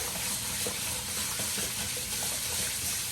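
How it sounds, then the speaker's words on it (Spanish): Rice is washed in water with continuous close sloshing and running water, a steady wet rush with small grainy swirls. "Ahora vamos a empezar a lavar el arroz"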